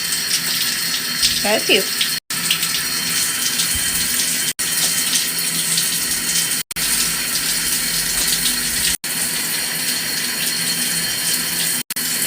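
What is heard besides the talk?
shower water running while a pet bird bathes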